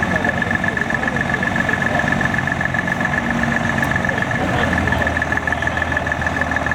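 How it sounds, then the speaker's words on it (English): Bedford lorry with a 220 turbo diesel engine idling at a steam rally showground, a steady, even rumble with a faint whine, close and continuous. "220 turbo diesel engine just been fitted."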